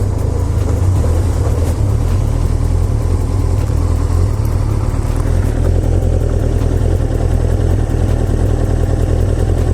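A Bandit motorcycle engine idles smoothly and steadily up close, a continuous low rumble with no break.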